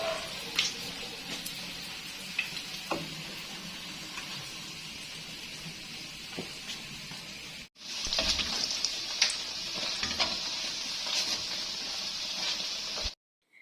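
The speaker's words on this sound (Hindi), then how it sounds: "और ये रोल भी फ्राई हो रहे हैं।" Keema-filled rolls fry in hot oil with a steady sizzling hiss and small pops, broken briefly by a short pause before the sizzle returns.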